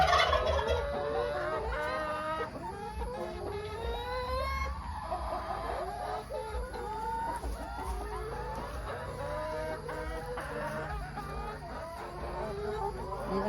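Laying hens cluck and squawk steadily inside a chicken house converted from an old pig pen, many birds close by overlapping in a constant busy chatter.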